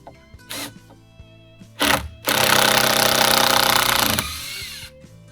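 A loud power drill whirs steadily for about two seconds after a couple of short bursts, close by, then winds down.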